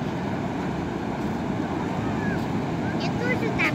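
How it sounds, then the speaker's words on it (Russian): Huge sea waves after a cyclone at Shamora beach, with the beach fully flooded: a continuous loud roar of surf mixed with heavy wind buffeting the microphone. "Волны не передать огромные."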